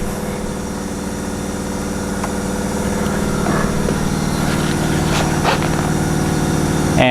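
Jeep engine with a rough-running fault idles steadily at the exhaust pipe, a continuous low rumbling drone with even pulsing, fairly loud and close, with a few faint clicks and handling noises over it and no talking.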